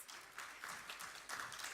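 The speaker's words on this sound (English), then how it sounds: "give them a round of applause" Applause from a conference audience for paper presenters, a steady wash of clapping at moderate-to-faint level lasting a couple of seconds.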